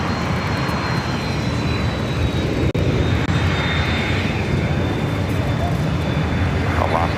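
A Boeing C-17 military transport jet at LAX produces a steady, moderately loud engine rumble and whine, with a faint high tone and a brief sharp click partway through.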